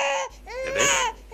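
An infant cries in short rising and falling wails, loud and close, with a brief breath between the first cry and a longer second one.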